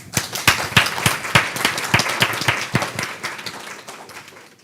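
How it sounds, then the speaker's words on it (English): Audience applause at a city council meeting, a modest group giving loud, distinct claps in a lively, uneven rhythm that thins out and fades over a few seconds. "want to give my mom a round of applause"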